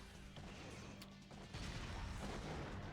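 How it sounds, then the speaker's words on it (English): An explosion attack fired from the special weapon in the Mega Man X7 video game, heard as dense, crashing game noise that booms and swells over about three seconds, with a sharp burst near the middle and steady loud rumble throughout. "That's an explosion attack done by the special weapon button."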